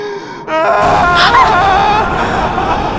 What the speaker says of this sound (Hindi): ये तो किसी की रोने की आवाज है।